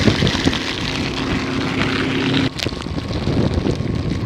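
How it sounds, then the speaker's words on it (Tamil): Strong storm wind from Cyclone Ditwah in Jaffna roars steadily and loudly across the microphone, a dense rushing noise with gusty buffeting throughout. "அதிக அளவாக காற்று வீசி கொண்டு இருக்கு இப்போ"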